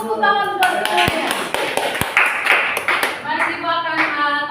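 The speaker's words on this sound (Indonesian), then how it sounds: "Tepuk tangan buat semuanya" A classroom group claps together, a busy run of overlapping hand claps over a few seconds, with voices and chatter mixed under the applause.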